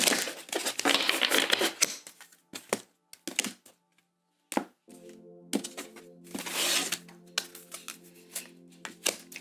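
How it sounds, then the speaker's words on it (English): Tarot cards being shuffled during a reading, giving bursts of papery riffling and clacking separated by short pauses, close and moderately loud, with no talking. "So we're going to see one more shuffle"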